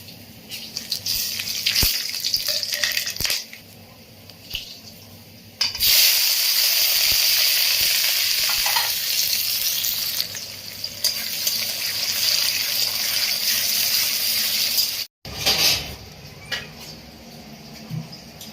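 Chicken pieces hit hot spiced masala in a pan on a gas stove, a loud, dense sizzle of frying with stirring that starts abruptly and runs on, briefly breaking off before resuming.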